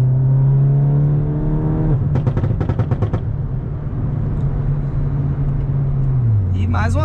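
Volkswagen Golf GTI with a straight exhaust revving hard, a loud steady engine drone that climbs and holds, broken by a rapid burst of crackling exhaust pops near the middle, with someone talking over it.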